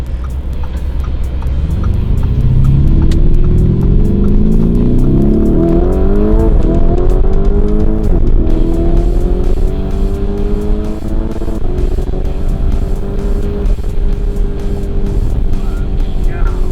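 A 2019 Lamborghini Urus pulls away and accelerates hard, its engine note climbing loudly through several gear shifts and then settling into a strong sustained cruise, heard close and continuously.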